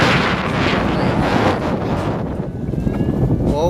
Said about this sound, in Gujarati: ધાબા ઉપર મસ્ત પવન ઉડે છે